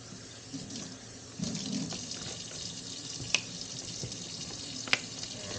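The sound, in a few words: rinsing a container under running tap water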